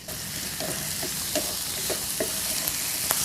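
Tomatoes and black olives sizzle steadily in a pan for a chicken breast stew, with a few light scrapes and stirs of a spatula over the continuous frying.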